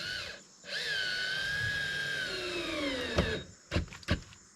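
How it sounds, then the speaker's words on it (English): A power drill whirs steadily as it drives screws down into a wooden stud, with a long sustained run and then a few short bursts at the end, close and loud. "I'm screwing the stud down too."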